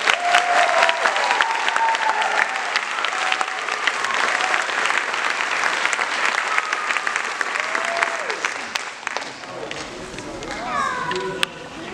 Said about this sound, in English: let's give our beginning orchestra a big round of applause